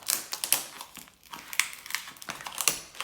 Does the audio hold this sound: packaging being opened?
yes